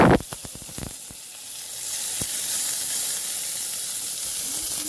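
Tomatoes with mustard seeds, fenugreek, coriander and curry leaves fry in oil in a kadai for a jackfruit-seed and brinjal curry: a few sharp crackles and pops at first, then a steady loud hiss.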